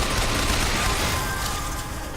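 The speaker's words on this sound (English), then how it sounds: "Why are they shooting at me?" Gunfire in the video game Bioshock Infinite, in the Finkton area, a dense continuous barrage of shots and booms that stays loud and slightly eases toward the end, with no talking.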